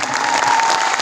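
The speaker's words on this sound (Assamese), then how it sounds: "আমাৰ সকলোৱে পথ প্ৰদৰ্শক গ্ৰেট মেন্টৰ সলিল মেথিউ ছাৰক থিয় হয় ষ্টেণ্ডিং মোডত এটা জবৰদস্ত তালি দিয়া প্ৰয়োজন।" A standing audience applauding at a network-marketing company event: a dense, loud wash of many hands clapping, continuous and close, with no voices heard.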